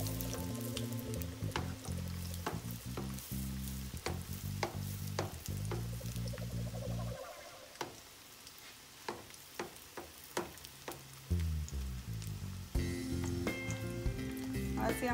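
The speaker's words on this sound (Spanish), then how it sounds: "vamos a ponerle aceite para la hora de voltear no se nos desinflen, queden bien esponjositas" Shrimp patties fry in hot oil with a continuous crackling sizzle and bright pops. Occasional clatter from a utensil and pan handling is heard, and the frying fades slightly at times before picking up again.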